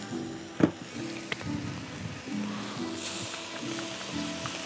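Pad krapow sizzling and stir-frying in a hot pan with oyster sauce, soy and fish sauce, a steady crackling fry with a sharp clang of the utensil near the start and rhythmic scraping strokes throughout.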